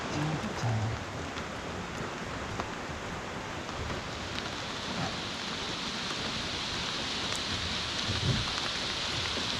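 Heavy rain pours steadily, a dense, continuous hiss of drops drumming on surfaces close by.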